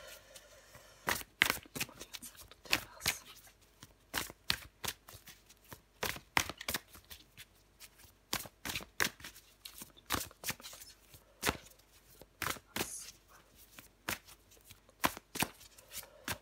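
Tarot cards being shuffled for a reading, a long run of crisp riffling bursts repeating at an irregular rhythm, close and fairly quiet, with no talking.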